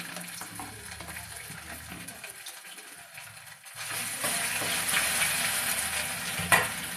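Ginger fries in a kadai for a yogurt soybean curry, starting as a faint sizzle, then swelling into a louder, steady frying hiss about halfway through, with a brief clatter near the end.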